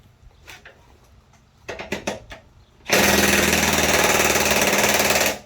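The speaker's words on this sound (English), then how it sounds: "I'm hoping my impact will just zip it off" Pneumatic impact wrench removing a 9/16 nut from a Cub Cadet Z-Force S 48 mower deck: after a few light clanks, a loud, sustained rapid hammering burst runs steadily for about two and a half seconds, close up.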